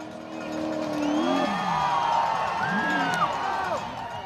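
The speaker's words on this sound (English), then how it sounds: "Listen to that crowd when he goes all the way." Spectators cheering and whooping at an Icelandic Formula OffRoad race as a car climbs, rising shouts mixed with revving engine tones, the crowd sound loud and spread across the scene.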